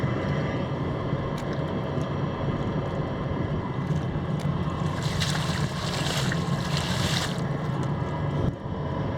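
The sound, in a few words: motor boat speeding on water during test drive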